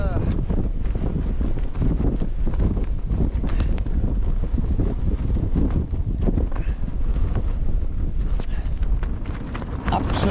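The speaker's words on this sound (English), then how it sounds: "windy night, like it's been like this all night, never stopped." Strong wind roars continuously across a hilltop wild camp on Hedgehope at night, a loud, unbroken buffeting rush with gusty swells on the microphone throughout.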